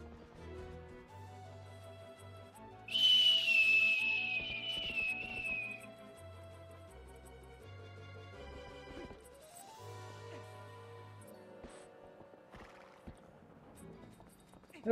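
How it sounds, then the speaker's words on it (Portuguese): Epona the horse in a Zelda video game, heard over steady game music with a loud bright burst near the start, maybe a whinny, plus rhythmic hoofbeat-like thuds. "Vamos, Mikael, vamos montar o cavalo!"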